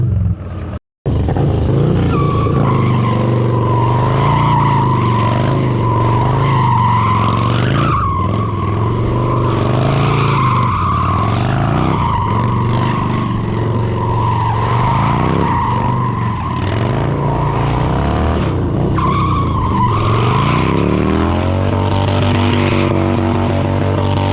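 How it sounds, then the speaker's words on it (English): A stunt motorcycle fitted with a Fueling 525 camshaft, engine roaring and revving loudly and continuously with shifting pitch as the rear tire slides and squeals, close up for over twenty seconds. "You got a little more oomph to get the tire backsliding if you catch a little traction."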